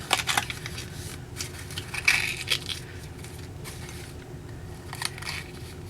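Paper flaps of a lighted shadow box ornament being folded in, with close crinkling and soft crunching creases in a few separate bursts.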